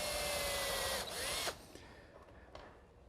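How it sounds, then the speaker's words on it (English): A power drill bores pilot holes in wood for #8 by 1 5/8 inch galvanized deck screws while building a table saw station. A steady close whine runs for about a second and a half, then stops, leaving a few small clicks. "I'm going to pre-drill for some number 8 by 1 5/8 inch screws"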